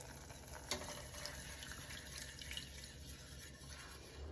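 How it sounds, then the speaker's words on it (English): About a quarter cup of water pours into a pan in a soft, continuous stream, a faint trickling pour with a brief splash early on and no talking. "The first one that's going in is about a 1/4 cup of water"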